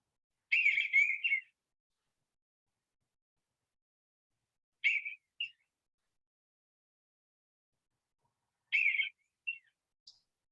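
Three short bursts of bluebird chortling, soft burbling warbles spaced a few seconds apart against near silence, clear and fairly close.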